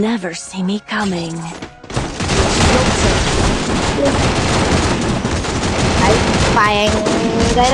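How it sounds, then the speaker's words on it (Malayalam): Heavy gunfire in the Free Fire mobile game. After a short stretch of other game sounds, loud dense bursts of automatic fire run continuously for several seconds, with a few rising tonal effects near the end. "ഭയങ്കര വെടിവെപ്പാണ്"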